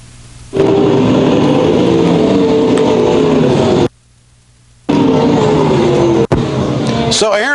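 USRA Modified race cars roar past at a dirt speedway in a loud, sustained engine drone that cuts out briefly and then returns, with a commentator's voice mixed in.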